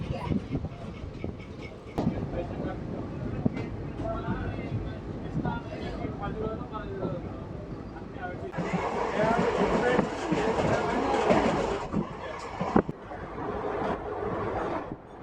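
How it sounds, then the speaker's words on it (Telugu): Guntakal–Tirupati passenger train rolling on after leaving Tummanamgunta station, a steady loud rumble of wheels and carriages that swells in the middle, with faint cabin noise throughout. "తుమ్మనంగుంట నుంచి మన ట్రైన్ బయలుదేరింది."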